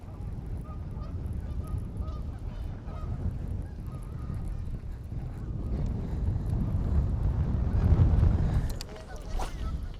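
A strong east wind blows across a lake, buffeting the microphone with a steady low roar that swells and peaks before easing off, while geese honk faintly and a voice is heard briefly.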